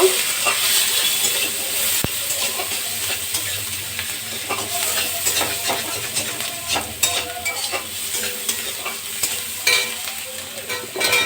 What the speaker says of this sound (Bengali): কাঁচা লঙ্কা দিলাম দিয়ে একটু নেড়ে নেব